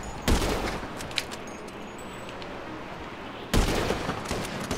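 Sniper rifle shots crack in Grand Theft Auto, two sharp loud reports a few seconds apart with gunfire noise between them.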